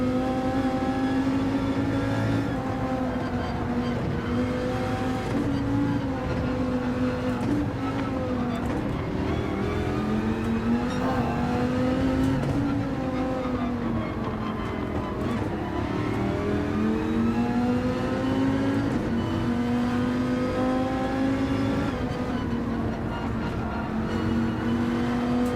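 Race cars in Gran Turismo 7, including a Dodge Viper GTS-R Gr.3 and a BMW, engines droning and revving continuously with pitch rising and falling through gear changes and braking, steady and loud without a break.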